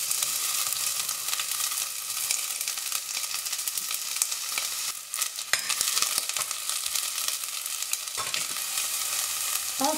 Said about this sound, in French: Quand l'huile est bien chaude, faites revenir les oignons